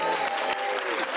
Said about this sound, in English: Give it up for our Zoom crowd.